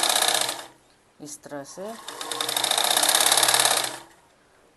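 An electric sewing machine stitching a kurti's neck strip, running in a loud, fast whir, stopping, then starting in short bursts and running steadily again, with someone speaking briefly during the pause.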